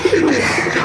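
Pigeons cooing in a village pigeon setup, a short soft low coo repeated a couple of times, close and clear over a steady background hiss.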